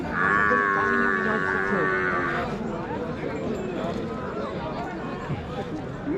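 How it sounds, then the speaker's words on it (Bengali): Buffaloes at a Rajshahi cattle market low and moo loudly in a long call at the start, amid a dense crowd murmur of talking people and a busy outdoor bustle. "মহিষগুলো বাঁধা আছে প্রচুর আমদানি"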